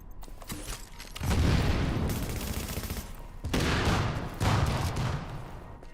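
Enemy shotgun blasts in The Division come in loud, booming bursts, several heavy shots in close succession separated by short quieter gaps.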